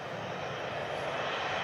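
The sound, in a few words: airliner engine at Manchester Airport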